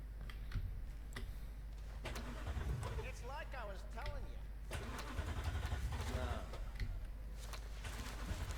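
A car engine cranks and starts inside a vehicle in Cyberpunk 2077, settling into a low idle rumble with faint ticking, heard close under a voice talking over it.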